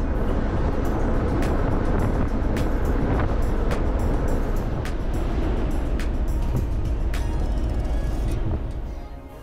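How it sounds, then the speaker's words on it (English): Strong wind buffets the microphone in a constant low roar on the open deck of a CalMac ferry to the Isle of Arran, with an engine hum and scattered clicks and taps, continuous throughout and fading slightly at the end. "it's very windy out in the deck"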